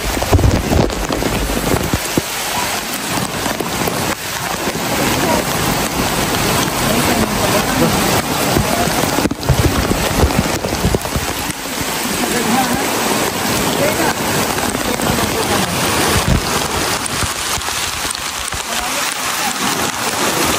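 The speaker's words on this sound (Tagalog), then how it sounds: "Ulan mga kababayan." Heavy rain pours steadily in a mountain area during flooding, a dense continuous roar of drops on surfaces with occasional thumps, while voices talk faintly underneath.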